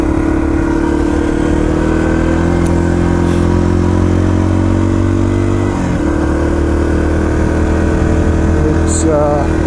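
A Yamaha TT-R230 dirt bike idles steadily and close by in a parking lot at Windrock Park, a constant low engine rumble with a slight dip near the middle and no talk over it.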